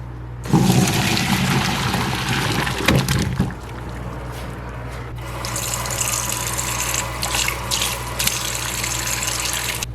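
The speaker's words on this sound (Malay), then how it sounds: "So sekarang ni kita keluarkan daripada air ni." Hot water is poured off boiled potatoes into a sink in one loud, steady gush. It splashes and runs for about ten seconds with no voices.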